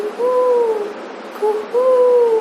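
A voice softly imitates an owl-like bird call, two drawn-out hooting notes repeated twice in a calm rhythm.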